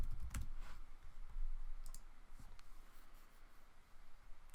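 Code is being typed on a computer keyboard in a Visual Studio C# file: a scattering of light, uneven key clicks over a low background hum, with no talking.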